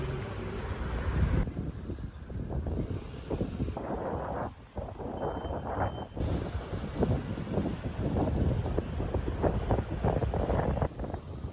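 Strong wind gusting on Rhodes, Greece, roaring steadily and loudly into the microphone throughout, with no voices heard.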